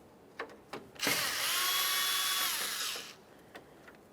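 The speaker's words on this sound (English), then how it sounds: "We're going to remove the front grille by removing several Phillips head screws across the top." A power driver spins out a Phillips head screw from the front grille of a 1994-1997 Honda Accord, one steady high whine lasting about two seconds, close and loud, with a few light clicks before and after.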